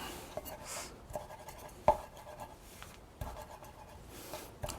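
Sage leaves are chopped with a rocking Alaskan ulu knife, a few faint, soft knocks against a board with one sharper tap, all quiet and close.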